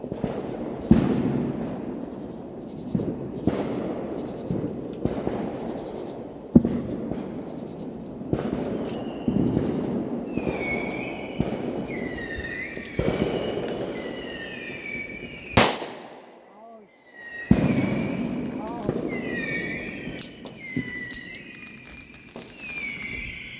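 A small Smith & Wesson revolver is fired at home on Independence Day: several loud, sharp bangs spaced seconds apart, each cutting off abruptly, with birds chirping in the quiet gaps.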